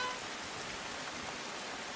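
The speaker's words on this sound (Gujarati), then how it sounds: "પણ ભારે વરસાદ વરસી રહ્યો છે" Heavy rain falls in Uttarakhand as a steady, uniform hiss. It stays faint and even throughout, with no voices.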